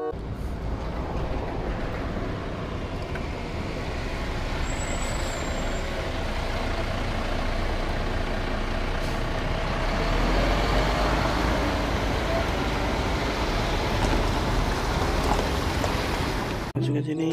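A heavy cement mixer truck rumbles steadily close by, its engine noise constant, with a brief high squeal of air brakes early on.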